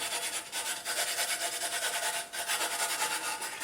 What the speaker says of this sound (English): just a little bit of 80 grit sandpaper, just take off any burrs, give it a slight chamfer so it slides into the frame easily